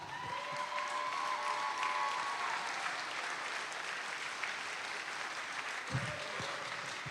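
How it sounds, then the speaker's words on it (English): Standing ovation at a high school graduation ceremony, a broad sustained wash of many hands clapping from a large gathering, with a couple of faint whistles early and a few louder claps near the end. "give them a standing ovation"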